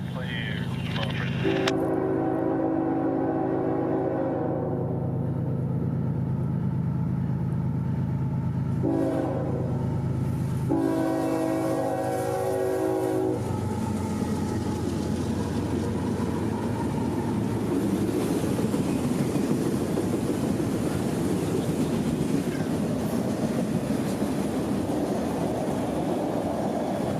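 A Norfolk Southern freight train sounds a long, loud horn in several sustained blasts, then rumbles past steadily with wheel clatter and rolling noise that fills the rest of the pass.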